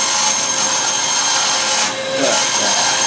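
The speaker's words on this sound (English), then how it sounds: "So I'll go over here to the bandsaw and" A bandsaw runs steadily with a loud, close whine while lightly cutting a wooden dice box part, briefly easing off near the end before resuming.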